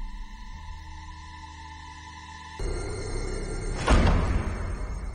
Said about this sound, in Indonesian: lalu terdengar bantingan pintu yang keras dari rumah Prabhakaran